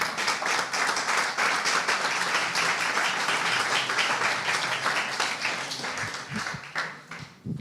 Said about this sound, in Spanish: Ahora, aplauda al Señor.